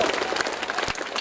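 Audience applause at a secondary school cultural program, a dense steady wash of many hands clapping together close by, with faint voices mixed in.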